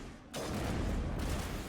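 Gunfire from the Mass Effect video game during a squad firefight, a dense, continuous burst of shots and rumbling booms lasting about a second and a half, loud and alone.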